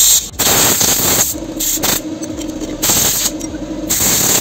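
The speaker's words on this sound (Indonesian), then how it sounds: "Saluran-salurannya semprot teman-teman." Bursts of pressurized spray blast through the channels of a diesel fuel filter on a Dakar pickup, loud and close, in several hissing pulses separated by short pauses.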